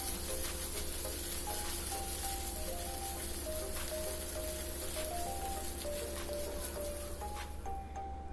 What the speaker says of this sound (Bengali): রসুন আর আদার কাঁচা গন্ধটা যাওয়া পর্যন্ত ভেজে নিচ্ছে